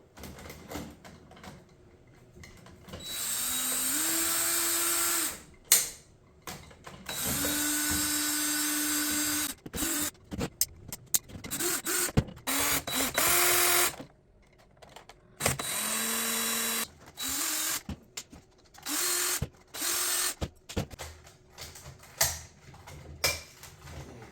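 A power drill backing screws out of a homemade plasma cannon cosplay prop casing, heard as repeated loud, close whirring bursts that rise in pitch as each one runs, separated by short pauses and clicks.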